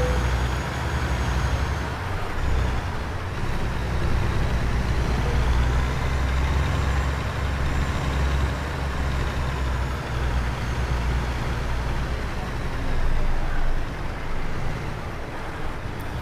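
A simulated truck engine drones steadily at low revs while reversing a rig with a trailer in a driving simulator game, a constant rumble with no one speaking.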